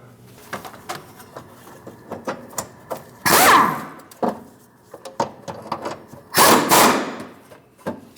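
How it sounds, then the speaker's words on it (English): Power tool running in two short, loud bursts, driving a fuel tank strap bolt on a Chevrolet Malibu, with lighter clicks and handling noises between them. "Install the fuel tank strap, get the bolt started."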